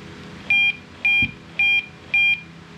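GSM wireless alarm panel beeping after connecting to Wi-Fi: four evenly spaced, loud electronic tones, each held briefly, with a low background hum.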